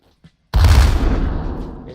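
A cannon barrage firing in a video game battle, a single loud sudden boom that starts sharply and rumbles as it slowly decays, with a faint tick just before.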